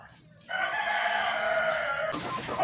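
A rooster crows loudly with a long drawn-out call, and chickens cluck and squawk alongside it at close range.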